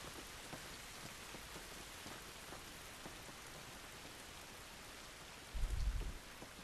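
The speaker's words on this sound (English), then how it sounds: "This rain ain't gonna do us any good." Steady rain falls outdoors in The Last of Us Remastered, a constant fine hiss of droplets with scattered patters, fairly soft, and a low rumbling thump near the end.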